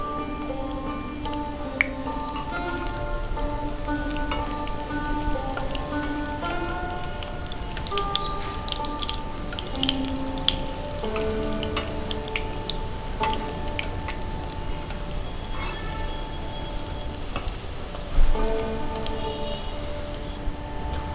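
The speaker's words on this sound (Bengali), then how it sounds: "বড়াগুলো আমি উল্টিয়ে পাল্টিয়ে লালচে করে ভেজে নিচ্ছি।" Lentil fritters (bora) fry in oil over moderate heat, giving a steady close sizzle full of faint crackles and pops, with occasional light clinks.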